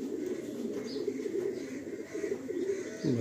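A good-quality breeding pair of pigeons at a seller's place in Behala coos steadily and close by, low rolling calls overlapping without pause throughout.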